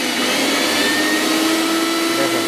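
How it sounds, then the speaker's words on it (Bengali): A household electric blender's motor runs empty at full speed, a loud, steady high-pitched whine held for the whole clip. "ভাই আমি একটু শুধু খালি মটরটা একটু স্পিডটা দেখাচ্ছি"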